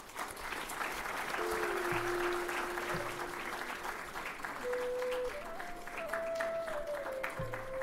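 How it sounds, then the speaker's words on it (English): An audience at a Central Electricity Authority award ceremony applauds steadily, a sustained, fairly distant wash of clapping with a thin musical tone running beneath it. "A round of applause, please."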